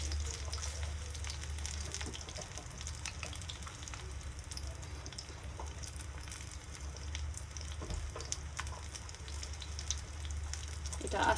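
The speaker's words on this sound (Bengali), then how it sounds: "এটা আস্তে জালে ভাজতে হবে" Prawn and pumpkin chops fry gently in oil over low heat, giving a steady, soft sizzle with faint crackles that holds evenly throughout, no voices over it.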